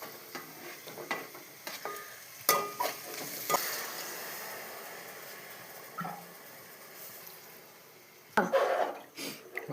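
Onions, chillies, ginger, turmeric and carrot stirred in a frying pan for tomato rice, with a soft sizzle under scraping spoon strokes and a few louder clanks against the pan, close by.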